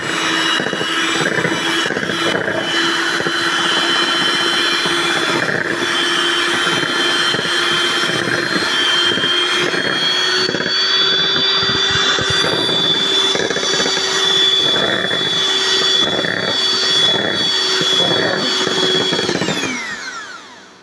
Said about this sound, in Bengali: আবার বিট করব।